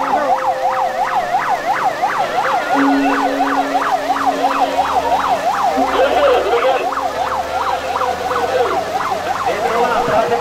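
An ambulance siren wails loud and close at the Mandalika MotoGP circuit, cycling rapidly up and down in a continuous repeating pattern over a low vehicle rumble.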